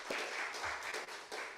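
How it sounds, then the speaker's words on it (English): Audience applause following a talk at a World IP Day 2023 event on access to knowledge and the right to research, a soft, steady patter of clapping from a crowd, fairly distant and quiet throughout. "Another round of applause for Sean"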